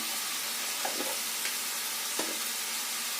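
Ground coriander and cumin sizzle in a pan of fried onions and ginger, garlic and green chilli paste while a mutton curry is cooked: a soft, steady hiss with a few light clicks and scrapes of stirring.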